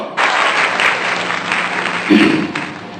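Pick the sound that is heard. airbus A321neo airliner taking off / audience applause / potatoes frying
audience applause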